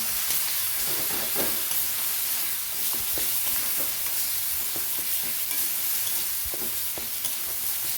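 Ground cumin masala fries in oil in a pan with a steady close sizzle and hiss, broken by irregular scraping and stirring clicks from a utensil throughout.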